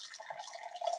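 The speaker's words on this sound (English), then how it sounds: "this is a water jug I found that makes it sound like I'm peeing" Water pours steadily from a jug in a short continuous trickling stream, like someone peeing, close and moderately loud, with no talking.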